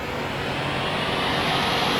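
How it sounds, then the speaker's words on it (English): A Boeing 737 airliner's engines roar at full takeoff throttle, a steady, loud, broadband rush with constant low rumble filling the cabin, no voices over it. "Alright, we are here and ready for takeoff."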